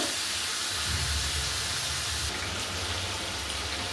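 Meat being fried and stirred with spices in a pan in a village kitchen, a steady dense sizzle and hiss, loud and close, with no talking.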